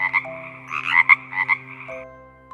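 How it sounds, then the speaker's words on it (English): A frog croaks in a quick run of rough, bubbling calls packed into about two seconds, close and fairly loud, then trailing off quietly. "F for frog."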